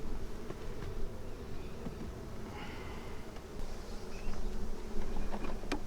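A steady, dense buzzing of many bees hums continuously close by, with a low droning texture and occasional individual insects passing nearer.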